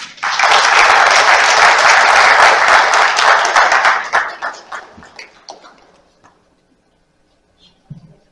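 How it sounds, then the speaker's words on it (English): Loud, dense round of applause from a seminar audience welcoming a speaker at an investment seminar, sustained for about four seconds, then thinning into scattered claps and fading to near silence. "please welcome Dr. Abdul Choudhury with a round of applause."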